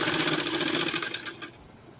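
A sewing machine stitches a high-neck blouse in a quick, steady run of needle clatter, then stops after about a second and a half.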